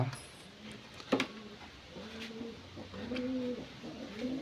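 Pigeons in a loft give soft, low cooing calls, one bird early and several overlapping coos later, with a sharp knock or clink near the one-second mark and a quiet background.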